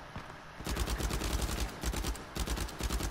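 Rapid automatic gunfire in the action game Uncharted 4 rattles in three loud, close bursts separated by short pauses, with no talking.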